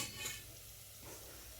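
Vermicelli is roasted in a pan for kheer in a village kitchen, giving a faint, steady dry sizzle with light stirring scrapes. The sound stays quiet and even throughout.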